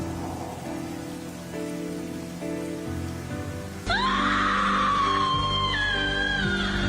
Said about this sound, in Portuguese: Sob a chuva fria, mais uma vez,